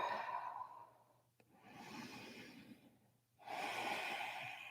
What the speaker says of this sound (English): we'll take about 3 more breaths here